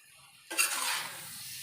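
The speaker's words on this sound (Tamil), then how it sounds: "அப்படி கிளறிக்கிட்டே இருங்க." Mango pickle stirred in a hot pan, starting with a sudden scrape and then a steady sizzle and light stirring that fade a little toward the end, close up with no talking.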